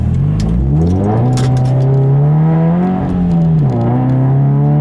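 A loud, close Subaru BRZ engine with manual transmission hums steadily, then its pitch rises and dips as it is rev-matched on downshifts between gears, with no voices.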